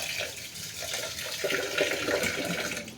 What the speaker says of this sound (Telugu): ఫిల్టర్ నీళ్ళు వేస్తాను.